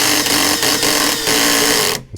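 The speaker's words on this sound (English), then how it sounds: "It's slipping, the clutch is slipping." A Parkside Performance 20V brushless cordless drill (PABSP 20-Li C2) with its clutch slipping makes a loud, continuous whirring buzz broken by regular ratcheting clicks, then cuts off abruptly near the end.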